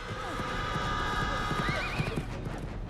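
Horse hooves clip-clop steadily with a horse neighing, set among film sound with music and some voices in a period fairy-tale scene.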